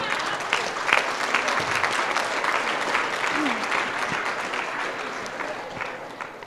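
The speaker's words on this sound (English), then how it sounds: "Let's give a big round of applause to these kids." An audience at a 4-H district show in St. Paul, Alberta claps steadily for junior show participants, a dense sustained applause that holds for several seconds and eases off slightly near the end, with faint voices mixed in.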